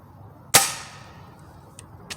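Ruger Impact Max Elite .22 gas piston air rifle firing a hollow point pellet, a single sharp close crack that fades quickly, followed by a couple of faint ticks.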